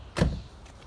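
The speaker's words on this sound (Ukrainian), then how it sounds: "Закривайте двері, не забувайте закривати двері." A car door shutting during a police vehicle stop, one single solid thump, short and fairly close, followed by quiet background.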